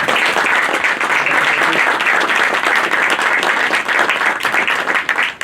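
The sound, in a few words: loud applause welcoming director Hemanth Rao on stage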